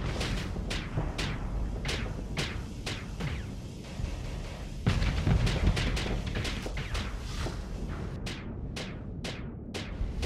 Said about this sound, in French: Je vais me shooter avec mon propre missile.